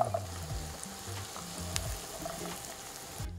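Carrots tipped into onion and garlic already sizzling in a pan for Mexican rice, a steady close frying hiss with faint stirring clatter and no voices.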